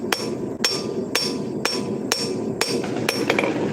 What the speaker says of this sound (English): drawing it out longer, and then we'll be able to forge in the tip and the preform and the curves and the bevels